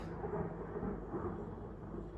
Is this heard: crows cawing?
no